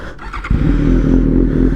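A Suzuki GSX-S750 motorcycle engine with a catless Yoshimura exhaust idles, then kicks up into a loud, steady rev at close range that holds to the end.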